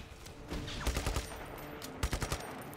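Gunfire in the video game Missile Take Down: a few quick clusters of muffled shots over a steady game background, moderately loud, with short gaps between the bursts.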